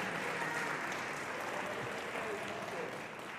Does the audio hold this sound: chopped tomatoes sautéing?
no